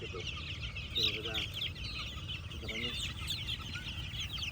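Mule train hatch gray gamefowl chickens on a farm make soft clucks and short calls, with a few distinct clucking bursts over a constant low background murmur.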